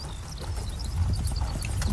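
Horse hooves clip-clop steadily as horses pull carriages along, a close, continuous trotting rhythm with occasional faint whinny-like sounds and no talk.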